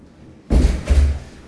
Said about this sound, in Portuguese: Deixa eu abrir a porta aqui